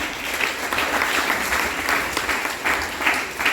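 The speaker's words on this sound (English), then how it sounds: "Let's give them a round of applause." A school graduation audience gives teachers a round of applause, a full, continuous patter of many clapping hands with gentle swells, close and loud with no voices over it.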